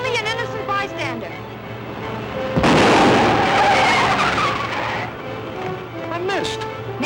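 A 1941 film-noir car chase, with the police car following, opens under shouted dialogue and engine noise, then a loud tire skid bursts out and lingers before the voices return.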